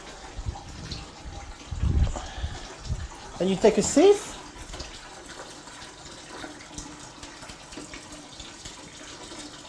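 Hot tap water runs over cooked peas in a bowl and a sieve, a steady splashing wash with a few louder gushes, close by and partly under a person's talk.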